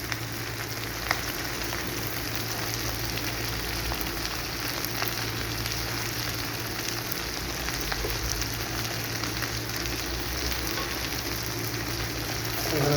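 Potato and egg fry together in a hot pan with a steady, dense sizzle and crackle that runs unbroken and fairly loud, close by, with no voices over it.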